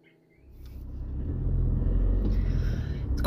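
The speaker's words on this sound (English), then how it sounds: "I'm stuck in traffic" Car interior rumble while stuck in morning traffic: a deep, steady low engine and road drone that swells after a quiet start and holds, with faint higher whines and thumps above it.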